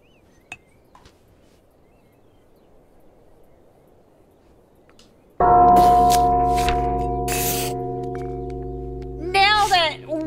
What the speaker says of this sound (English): that's a loud bell.